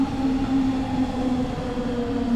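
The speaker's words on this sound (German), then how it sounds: "Ein weiterer Fahrzeugtyp der Berliner S-Bahn ist die Baureihe 481." A Berlin S-Bahn class 481 electric train gives a steady, loud running hum with a strong tonal whine throughout, like a continuous in-car or close pass-by drone with no voices.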